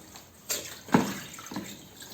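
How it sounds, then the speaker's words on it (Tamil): Water wrung from a Dmart Easy Mop head spinning in its bucket gives a few short, soft splashing and dripping bursts, close by and fairly quiet, with no talking. "ஸோ இப்போ இப்படி பண்ணும்போது நமக்கு தண்ணி வந்து நல்லா புழிஞ்சிரும்"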